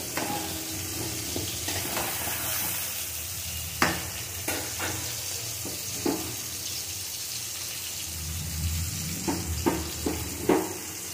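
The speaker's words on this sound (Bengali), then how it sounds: "দিয়ে আমি পেঁয়াজটা একটু ভেজে দেবো ভালো করে" Onion fries in a pan for egg curry, a constant close sizzle punctuated by several sharp scraping and clicking strokes of a stirring utensil at irregular intervals.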